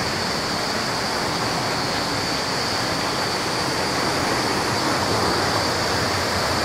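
A steady, loud rush of flowing water fills the whole stretch without pause, like a large stream pouring over rocks close by.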